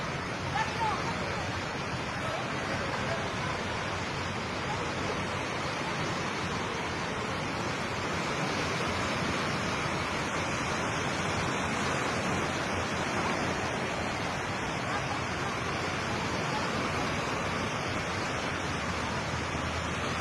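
Sea surf rolling back onto the shore after an earthquake in the Philippines, a steady, loud broadband wash of water and wind that fills the whole stretch, with people talking and exclaiming over it.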